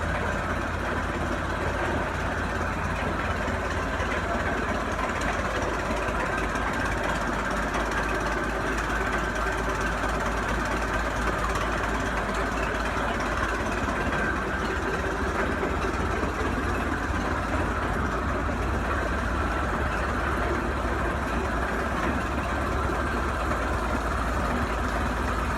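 A 101-year-old 10-20 tractor engine runs steadily, a continuous low mechanical drone with a faint rapid beat, even and unbroken, without speech.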